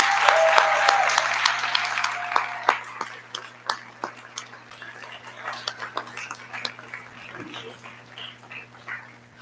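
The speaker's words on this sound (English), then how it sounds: "So please, everybody, let's give an applause to everybody." Applause from the audience at an end-of-year graduation celebration, a dense wash of clapping that slowly fades, with scattered individual claps standing out toward the end and a low steady hum beneath.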